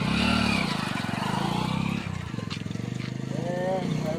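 A motorcycle engine runs close by at a roadside police check, its rapid pulsing putter heard under loud overlapping talk.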